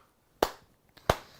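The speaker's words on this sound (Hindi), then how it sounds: "जोरदार तालियां" Two sharp, loud claps spaced well apart, each a crisp isolated hand strike with a short decay, standing alone in a quiet room with no talking.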